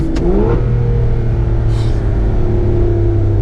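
A Porsche GT2 RS engine revs up loudly on a downshift, a sharp blip rising and settling into a steady, close, sustained drone.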